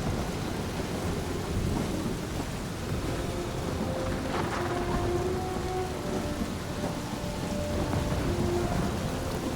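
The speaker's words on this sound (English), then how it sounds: "That is some really crazy lightning out there!" Stormy weather in the Guardians of the Galaxy video game: heavy, steady rain hisses throughout while low thunder rumbles roll beneath it, with a brief crackle of a lightning strike midway and no voices.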